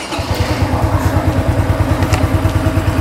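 A Honda Dream NCX 2024 motorcycle idles steadily after starting, its close, loud engine making a regular low putter and mechanical clatter throughout, with no talk over it.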